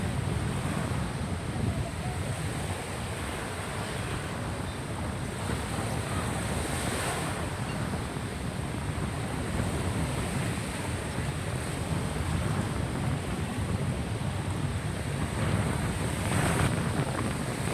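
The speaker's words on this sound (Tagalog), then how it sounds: "Hangin na." Strong, steady wind roars across the microphone with a constant rushing hiss, likely near open water in Medellin, Cebu, Philippines, with no voices.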